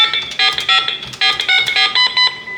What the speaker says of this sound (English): that double beep means that you're in programming mode